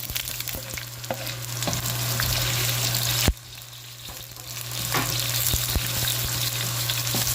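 Garlic and onion sauté in a pan with a dense, steady sizzle, broken by scattered scraping clicks from stirring and one sharp knock partway through.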